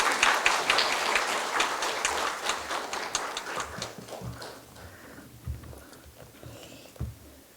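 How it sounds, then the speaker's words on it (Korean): A church congregation claps loudly to welcome a missionary to the pulpit, a dense burst of applause that thins and fades out over several seconds, with a few faint thumps near the end. "우리 선교사님 나오실 때 우리 큰 박수로 한번 환영하십시다"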